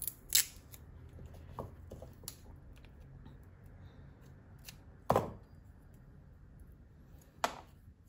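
Scissors snip through tape and material while a vinyl roll holder is being made, a few crisp separate cuts at about 0.3, 5.1 and 7.4 seconds with light handling noise between, close and fairly quiet.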